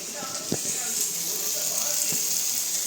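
Beans, onion and tomato sizzle in a pan with a steady moderate hiss, while a utensil scrapes and taps the pan a couple of times.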